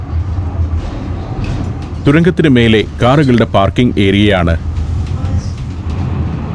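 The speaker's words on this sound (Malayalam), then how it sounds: "പട്ടണത്തോടടുക്കുമ്പോൾ വളരെ ഇടുങ്ങിയ സ്ഥലത്തുകൂടിയാണ് ട്രാം പോകുന്നത്" Steady low rumble of a funicular tram running through a narrow passage in Norway, with someone talking over it in the middle.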